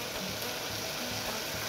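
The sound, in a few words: kohlrabi (navalkol) sizzling as it is added to the pan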